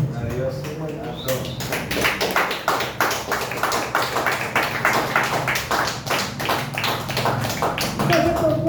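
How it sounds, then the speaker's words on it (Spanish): Church congregation clapping during a sermon, many hands in a dense, rhythmic round of applause with voices audible beneath it. "Den aplausos."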